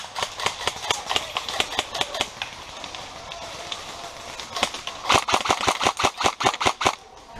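Paintball markers firing outdoors in a rapid series of sharp pops. The shots come in bursts, thin out in the middle and then pick up again in a dense volley, with some faint background commotion.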